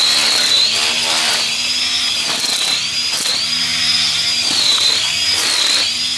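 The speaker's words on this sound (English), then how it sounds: "I'm gonna show y'all the side where he's like using the edger or the weed whacker." Edger or weed whacker trimming grass during a backyard barbecue day, a loud, steady high-pitched motor whine that rises and dips in pitch as the string cuts, continuous throughout at close range with no talking.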